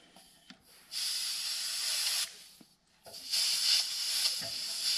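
Air hisses steadily from a locking air chuck leaking at a tire valve stem during inflation, coming in two long bursts separated by a brief pause, close and fairly loud.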